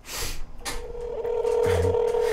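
An electronic ringtone plays loudly with steady tones and a shifting melody, close and continuous for a couple of seconds.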